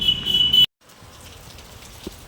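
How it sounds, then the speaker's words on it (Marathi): Rain falling outside a home, a dense steady hiss that starts loud and close, cuts out briefly, then continues softer and more distant. "पाऊस लय पडायला आहे, बघू शकता तुम्ही."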